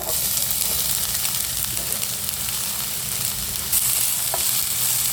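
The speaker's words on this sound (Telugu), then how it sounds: "ఆనియన్స్ మొత్తం గోల్డెన్ బ్రౌన్ కలర్లో వచ్చే విధంగా ఫ్రై చేసుకోవాలి." Chopped onions sizzle steadily in hot oil in a pan for khuska rice, a dense, even frying hiss with faint stirring scrapes throughout and no voices.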